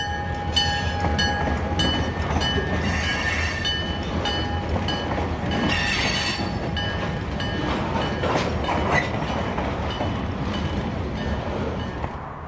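A freight train hauling loaded dry rock hoppers of phosphate rolls past out of a large phosphate plant, a loud, steady rumble with clattering wheels and squealing tones, and a horn sounding briefly.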